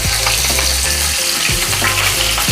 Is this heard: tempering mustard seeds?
yes